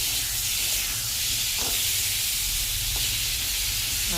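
Ridge gourd and pointed gourd frying in a pan, a steady, even hiss of sizzling oil running throughout with no pauses, fairly close and with no talk over it.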